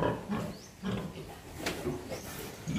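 A heavily pregnant sow in a farrowing pen, with a very large belly, grunts in low, repeated bursts as she strains in labour, close and fairly steady with short pauses between grunts.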